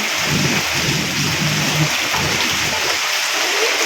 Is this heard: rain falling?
yes